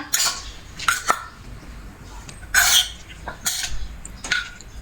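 Papaya salad is pounded in a mortar, giving sharp wooden knocks and clattering thuds in an irregular rhythm, close and fairly loud, with quieter scraping between strikes.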